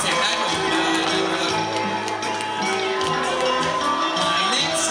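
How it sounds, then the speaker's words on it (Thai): A festival crowd at a Songkran celebration held at a temple, cheering and shouting in a dense, continuous wash of noise with some clapping mixed in and voices throughout. "ปรบมือได้ครับปรบมือได้นะครับส่งเสียงได้ปรบมือได้นะครับ"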